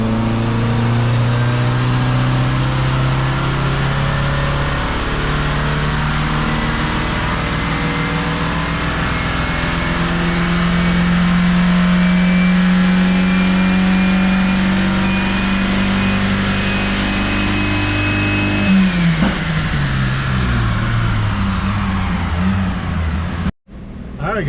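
A 1986 Plymouth Voyager with a 2.2-liter engine held at full throttle on a dyno, a loud, steady high-revving drone climbing in pitch through the gears before cutting off abruptly at the end.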